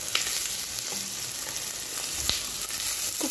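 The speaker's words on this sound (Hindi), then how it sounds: "आज तो मैं सिर्फ मशरूम और चिकन का स्टर फ्राई" Chicken and mushrooms stir-frying in a pan make a soft, continuous sizzle with a few brief stirring scrapes.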